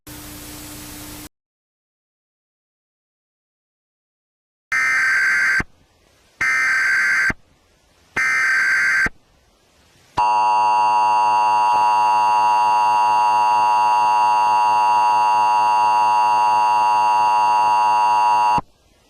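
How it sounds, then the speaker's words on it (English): An emergency alert system plays three short bursts of data tones followed by a long, loud, steady two-tone attention signal held for about eight seconds, after static and a pause, with no talking. "This is the emergency alert automated message system."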